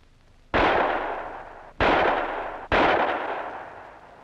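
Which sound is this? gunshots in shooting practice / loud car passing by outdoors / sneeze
gunshots in shooting practice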